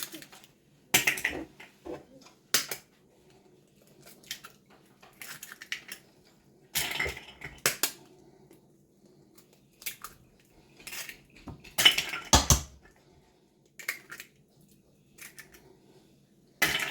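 Ripe banana being mashed in a bowl for rice bread, heard as intermittent clinks and scrapes of a metal utensil against the dish, close and sporadic with quiet gaps between strokes.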